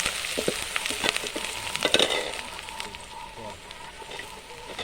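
Crushed shallots sizzle and crackle in hot tempering oil for country chicken soup, with brisk frying pops and a few sharp scraping stir sounds near the start.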